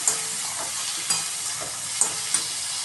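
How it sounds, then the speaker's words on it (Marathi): Onion sautéing in a pan for an eggplant bharit, a steady close sizzle with a few crisp spatula clicks at irregular intervals and no talking. "कांदा छान परतून घेऊया."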